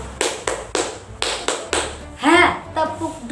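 Hand claps in a classroom clap game, sharp separate claps in a quick irregular rhythm, with a voice chanting between them.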